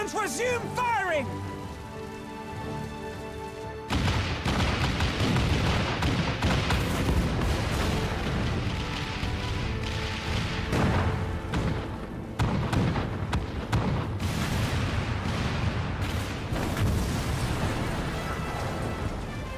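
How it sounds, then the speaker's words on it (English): Heavy booming cannon fire in a game battle, repeated blasts and crackling bursts layered over a dense, roaring wall of noise, with voices shouting underneath. "All cannons resume firing!"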